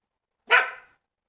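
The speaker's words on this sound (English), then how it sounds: "You gonna bark at me now?" A single sharp bark from a pet dog, loud and close, alone in otherwise silent surroundings and fading quickly.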